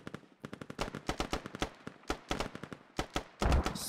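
Rapid gunfire in the military shooter game Squad, bursts of automatic shots with brief gaps between volleys, sharp and fairly close, continuing throughout with no speech.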